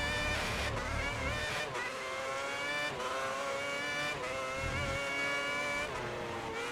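F1 race car from the game F1 2010 lapping a wet track, its high engine whine climbing and dropping through gear changes with tire hiss, loud and continuous with no talk.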